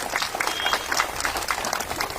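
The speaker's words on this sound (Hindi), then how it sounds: "जोरदार ताली एक बार इसलिए" An audience at a political rally claps together, a dense continuous wash of many hands at moderate distance, loud and even throughout.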